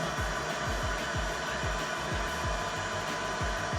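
A heat gun or hair dryer blows a steady, loud whoosh of hot air over tint film on the headlight of a 2017 Dodge Challenger. Low rhythmic pulses run beneath it for about four seconds, with no talk.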